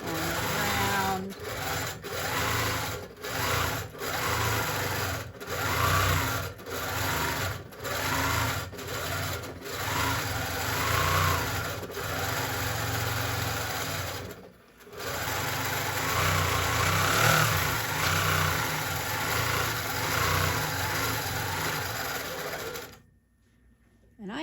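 A longarm quilting machine stitches in a steady rapid whir, broken by short regular pauses as the stitching stops and starts, fairly close and alone, ending in a brief silence.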